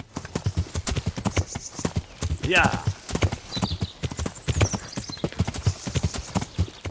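A horse in the Kingdom Come: Deliverance video game gallops with steady, rapid hoofbeats and lets out a short whinny midway, while a person talks over the galloping.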